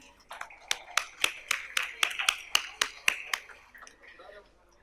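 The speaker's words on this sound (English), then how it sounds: "A big round of applause, please." Audience applause greets panel members being introduced on stage at a panel discussion, a run of about a dozen sharp, evenly spaced claps rising and fading over several seconds in a hall.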